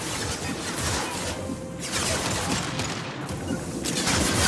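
Rapid, dense gunfire in the sci-fi shooter Mass Effect 2 crackles loudly and continuously, with sharp impacts and heavy bursts overlapping throughout.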